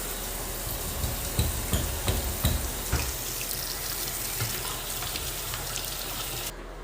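Water runs steadily inside a leaking shower enclosure of a new-construction home, a continuous splashing hiss at moderate level with a few sharper spatters early on and no talking.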